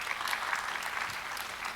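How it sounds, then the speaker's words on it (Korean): A crowd claps steadily for a couple of seconds, a dense, even patter of applause with no voices standing out. "박수 부탁드립니다."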